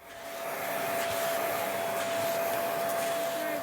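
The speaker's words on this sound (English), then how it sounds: "it's time to vacuum all the floor" A vacuum cleaner runs over a bedroom floor during tidying, starting up and then holding a loud, steady whirring drone with a constant tone for the whole stretch.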